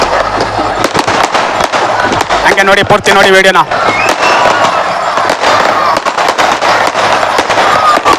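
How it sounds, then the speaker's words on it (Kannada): Firecrackers burst in a rapid, loud crackling volley at a Sankranti festival celebration with bulls in Mandya, sharp pops close by throughout, while someone talks over them and a brief horn-like tone sounds midway. "ನೋಡಿ ಪಟಾಕಿ ಎಲ್ಲ ಸಿಡಿಸ್ತಾ ಇದ್ದಾರೆ"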